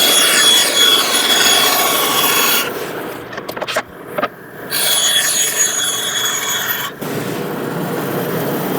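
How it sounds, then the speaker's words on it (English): Bandsaw cutting wood for a Kubb caddy, a loud close whining rasp that runs steadily, drops out briefly for a few seconds of clatter, then returns. "on the bandsaw, I'm going to cut close to, but not on my traced line."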